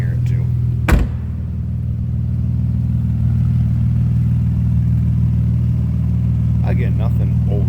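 A 1999 Plymouth Prowler convertible idles steadily from behind with a deep, continuous exhaust rumble, joined by a brief sharp knock early on and a voice talking faintly near the end.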